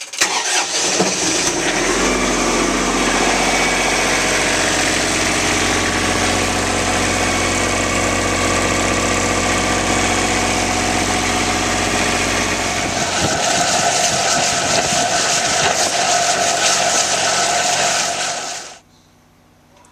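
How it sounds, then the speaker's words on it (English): A home standby generator cranks and catches, then runs at a loud, steady idle with a deep droning hum for about seventeen seconds before shutting down abruptly, with no voices. "We can also stop the generator from right here in the house."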